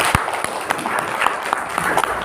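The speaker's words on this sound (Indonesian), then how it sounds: "Boleh tepuk tangan, teman-teman." Applause from an audience at a community forum dialogue event, a steady mid-distance wash of many hands clapping with scattered sharper claps, continuing throughout.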